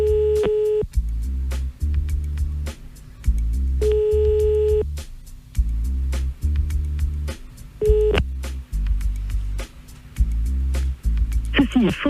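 A telephone calling-back sequence: repeated ringback tones in regular bursts, each with a low pulsing hum, separated by short gaps, with a voice briefly speaking near the end before an answering machine picks up.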